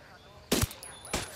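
Two sharp gunshots ring out in Ghost Recon Wildlands, the first loud and close with a quick double crack, the second slightly softer about half a second later, over quiet game ambience.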